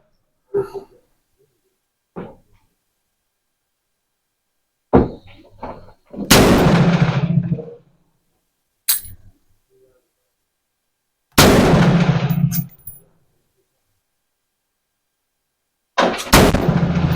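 M4 rifle shots fired one at a time while sighting in a green laser, each a sharp loud crack with spaced pauses and a few quieter knocks between; roughly four big reports over seventeen seconds, no talk.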